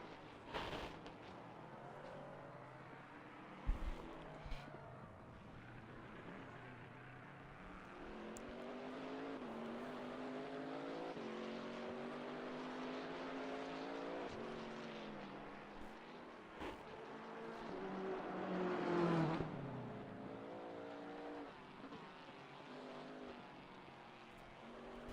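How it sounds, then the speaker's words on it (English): Race cars in a racing video game pull out of the pit lane, a sustained engine drone that rises and falls in pitch with shifts and a swell of passing engines near the end. "And off the jacks there they go, coming out of the pit lane."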